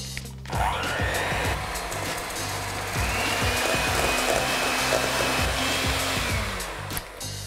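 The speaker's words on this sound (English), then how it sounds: "I'm going to use my hand mixer to mix that together for about 1 to 2 minutes until it starts to get a bit" A hand mixer whipping butter with maple syrup in a bowl, a steady close electric whir running throughout with a slight shift in pitch partway.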